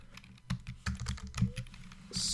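Keys clack on a computer keyboard while a search is typed into the Windows 10 search bar, a quick irregular run of close, soft taps in a quiet room.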